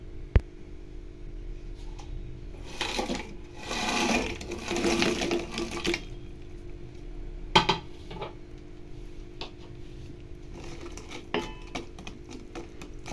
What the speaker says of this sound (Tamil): இப்போது ப்ரெட் பீசஸ் உள்ள போட்டுக்கலாம்.